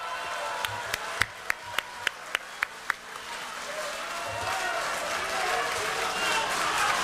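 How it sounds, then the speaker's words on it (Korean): An audience at a political gathering breaks into broad, sustained applause and swelling crowd noise that builds over several seconds. A few sharp, isolated claps come first, near and distinct. "큰 박수로 모시겠습니다."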